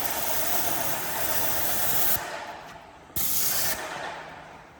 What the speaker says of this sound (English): When I just put the pipe into the tin of paint and it just sucks it out however fast I need it.